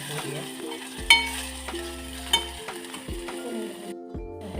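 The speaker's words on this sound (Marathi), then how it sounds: "सगळा बटाटा तेलामध्ये भाजून घेऊया." Grated potato frying in oil in a pan for a fasting-style idli sambar, with a steady close sizzle and a few sharp utensil knocks against the pan; a low tonal hum sits underneath and no one speaks.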